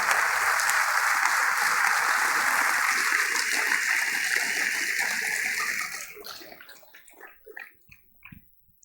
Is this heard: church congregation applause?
yes